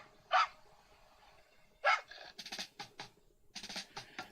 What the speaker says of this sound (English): Me like how the little dog bark.